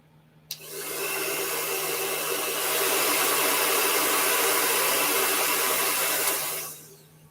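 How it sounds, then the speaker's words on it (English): A handheld blow dryer switches on abruptly and runs as a steady, loud whooshing roar to dry acrylic paint on a canvas, then cuts off near the end. "I'm going to take my blow dryer."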